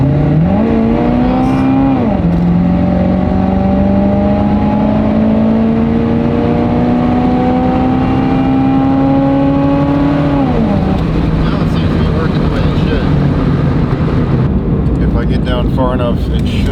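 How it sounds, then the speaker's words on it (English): A 1991 Pontiac Firebird fitted with a 700R4 automatic and TransGo shift kit is driven at full throttle, its engine climbing loudly, dropping at a gear change and rising again for a long pull before easing off; a voice talks briefly. "I had him hold the throttle all the way down"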